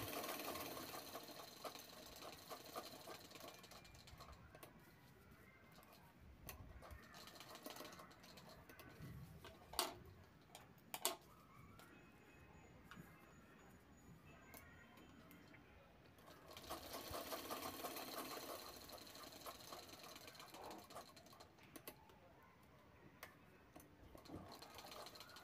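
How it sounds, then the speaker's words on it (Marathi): A sewing machine stitches both sides of a fabric pouch, giving a steady, fast, quiet mechanical whir and patter that runs nearly throughout, with a few sharper clicks. "इथे आपल्याला पाऊचच्या दोन्ही साइड शिवून घ्यायच्या आहेत।"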